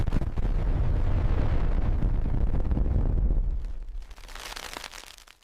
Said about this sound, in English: A rock from space tears the heavens apart.